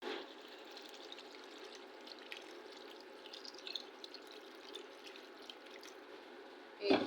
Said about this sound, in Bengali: এখন এর ভিতরে একটু ঝোল দিয়ে